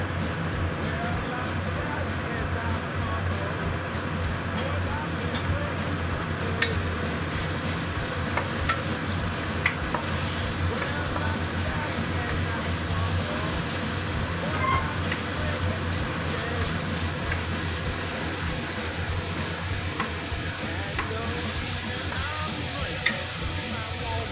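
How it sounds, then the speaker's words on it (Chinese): Beef fat trimmings fry in oil in a pan, giving a steady, close sizzle with scattered small pops and crackles throughout, unbroken and even in level. "加点油，开始煎。"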